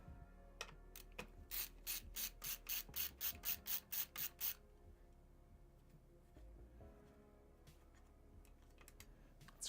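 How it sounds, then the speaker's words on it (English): A screwdriver drives a long screw to fasten an SSD into a Core Ultra 5 workstation PC build, making a quick run of about a dozen even, ratcheting clicks close by, followed by quieter handling noises. "we actually have to use a screwdriver to put this SSD in."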